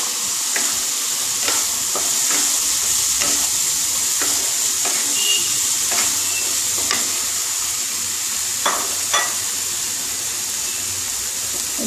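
Potatoes fry in a spice masala, a close, loud sizzle that holds throughout, punctuated by repeated scraping and clinking strokes of a stirring spoon.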